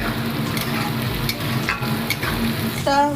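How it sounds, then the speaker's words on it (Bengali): Chopped ginger and garlic sizzle and crackle steadily in oil in a pan, with a few clinks of a utensil stirring, and a brief scrape near the end. "আদা রসুনটা একটু ভালো করে ভেজে নেব কাঁচা গন্ধটা যাতে না আসে"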